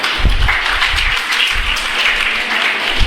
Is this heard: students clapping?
yes